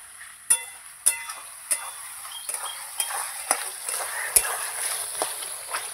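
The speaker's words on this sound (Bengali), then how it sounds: "তা আমি এই হলুদ সব কিছু দিয়ে আমি ভালো করে নাড়াচাড়া করে একসাথে কষিয়ে নেব।" Chicken stomach stir-fried with turmeric and spices in a pan: soft sizzle under a run of sharp spatula knocks and scrapes against the metal, roughly evenly spaced, close by, no talking.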